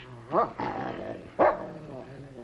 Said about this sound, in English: Your dog seems to have taken a dislike to me, sir.